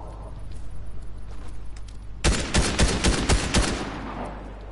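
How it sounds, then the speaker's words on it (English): Rapid bursts of Ranger assault rifle fire from a video game, loud and close, a dense string of shots running for about two and a half seconds after a quieter lead-in. "Ranger assault rifle."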